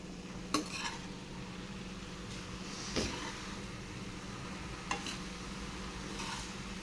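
Egg fried rice tossed with sauce in a pan over a high flame, a steady sizzle with a few sharp scrapes of a spatula against the metal, each spaced a couple of seconds apart.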